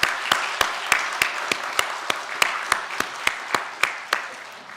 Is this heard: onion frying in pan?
no